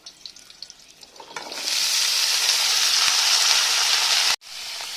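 Cut potato and cauliflower pieces hitting hot oil in a pan for khichuri, a sudden loud sizzle that swells and holds steadily, briefly cut off near the end before resuming.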